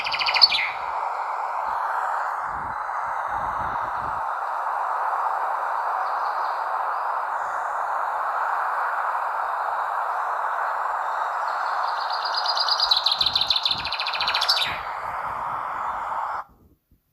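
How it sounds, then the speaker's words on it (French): Birds sing in an outdoor landscape, with steady chirping and twittering over a broad, continuous band of ambient noise and a brighter burst of calls near the end. "vous entendez les oiseaux qui chantent"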